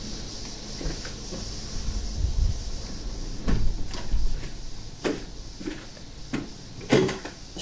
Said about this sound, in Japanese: 窓を閉めました。